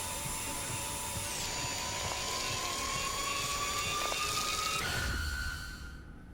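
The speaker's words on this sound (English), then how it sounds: "He just drilled in my brain." A drill boring into a brain during a horror scene in the video game Stories Untold, heard as a sustained high mechanical whine with a tone that slowly rises in pitch, then cuts off and fades near the end.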